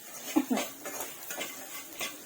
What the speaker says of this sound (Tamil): உப்பு யூஸ் பண்ணிட்டு அதுக்கப்புறம் திரும்பவும் நல்லா வதக்கி விட்டுருங்க